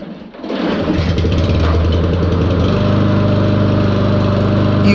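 A choked pull-start engine catches after a brief quiet moment and runs loud and steady, a constant close-up mechanical drone that holds to the end.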